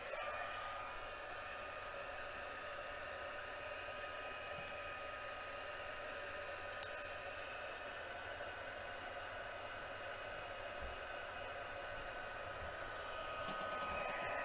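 A heat gun blows steadily, a constant airy whooshing hiss that stays even and unbroken throughout, fairly faint and with no voices over it.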